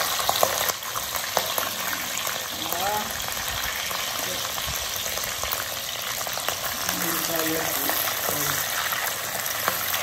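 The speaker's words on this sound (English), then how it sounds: "let me start with putting the prawn" Whole prawns dropped into a hot pan for homemade chow mein, giving a steady loud sizzle and frying hiss throughout, with brief stirring clatter.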